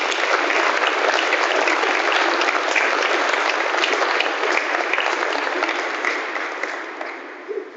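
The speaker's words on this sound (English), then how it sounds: "And one more round of applause for everybody." Sustained audience applause fills a hall at a university athletic hall of fame ceremony, dense and even for several seconds before gradually thinning and fading out.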